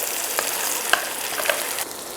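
Dried red chili paste sizzles and fries in a pan with garlic and ginger, a bright steady crackle punctuated by a few sharp pops as it is stirred, close up and without talk.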